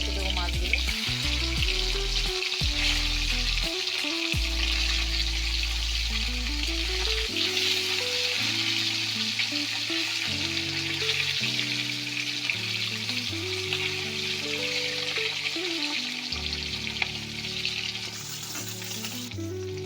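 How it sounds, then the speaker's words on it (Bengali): Parshe fish fry in hot oil in a pan with a continuous, even sizzle and crackle throughout, under background music. "ভাজা হয়ে গেছে, এবার উল্টে দেবো মাছগুলো।"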